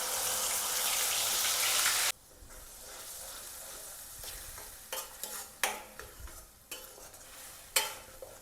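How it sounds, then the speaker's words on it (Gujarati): Onion gravy is added to a hot pan with bay leaf and cinnamon for palak paneer, bursting into a loud sizzle for about two seconds, then giving way to quieter frying and scattered clinks of stirring. "હવે આપણે તેમાં ડુંગળીની ગ્રેવી એડ કરી દઈશું।"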